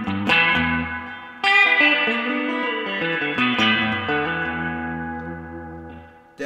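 Electric guitar chords ring out through a lush reverb pedal, notes swelling and decaying into a wet wash, played alone with no voices.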